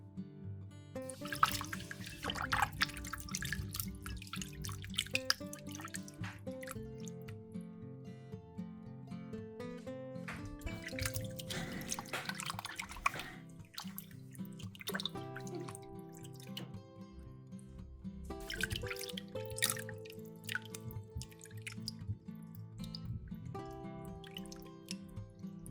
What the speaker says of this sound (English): Then put in water and wash 2 more times.